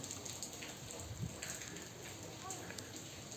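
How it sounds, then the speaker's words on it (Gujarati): Rain falls outdoors in a village, a faint steady patter and hiss with a few scattered drop impacts, heard alone. "અમારે ત્યાં તો બહુ સારો વરસાદ છે"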